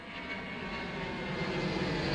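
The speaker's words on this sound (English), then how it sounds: "you can hear the planes taking off from Zamudio International Airport" Airplane engine rumble from a plane taking off at an airport, a steady broad roar that swells slightly louder across the short stretch, heard alone without voices.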